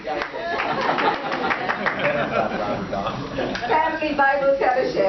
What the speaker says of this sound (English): Clap louder now.